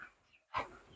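An exotic bully breed dog gives a single short, faint whimper in a brief quiet moment.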